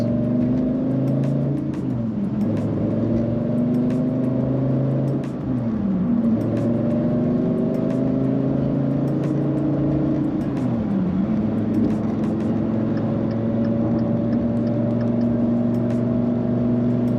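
Dodge Viper GTC engine droning steadily from inside the car while driving, with a few gear shifts and pitch swells as it accelerates, loud and continuous over road noise.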